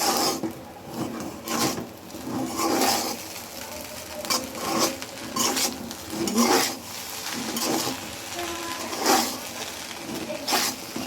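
A spatula scrapes and stirs egg vegetable fried rice in a pan, giving repeated rasping, scraping strokes in an uneven rhythm, close and fairly loud, with faint sizzling beneath.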